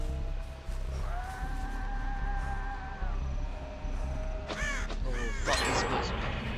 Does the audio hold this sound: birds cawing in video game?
yes